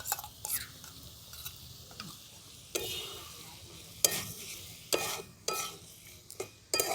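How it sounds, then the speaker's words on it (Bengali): Yogurt paste with cumin and coriander powder going into a pan of fried vegetables for winter vegetable pulao, stirred with a spoon in sharp scraping bursts over a soft background sizzle. "সেই দইয়ের পেস্টটা আমি দিয়ে দিচ্ছি"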